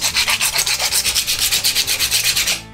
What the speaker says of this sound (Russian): Для начала наждачкой зачистим металлическую трубку.